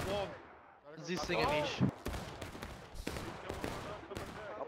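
Musket volleys and scattered shots in the Civil War shooter War of Rights, with sharp cracks popping in an uneven rhythm at mid distance while a voice talks over the firing.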